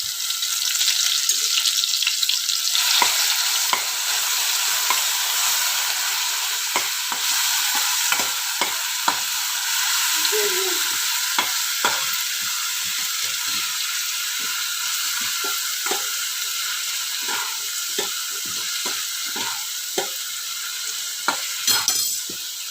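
Onion and garlic paste fries in a pan for a raw banana (aratikaya) dish, giving a continuous hissing sizzle with frequent scraping and tapping from stirring, close and fairly loud throughout.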